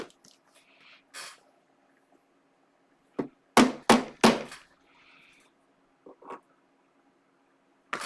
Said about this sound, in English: Just keep that hammer handy.